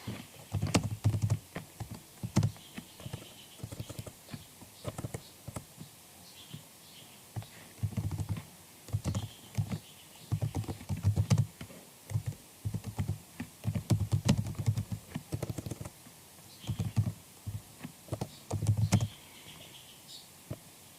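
Typing a profile description on a computer keyboard for a freelance account, bursts of quiet clicking keystrokes scattered across about twenty seconds, close but soft, with pauses between runs and no talking.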